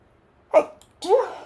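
A person sneezes twice: a short first burst, then a fuller, louder second sneeze a half-second later, close and clear against a quiet background.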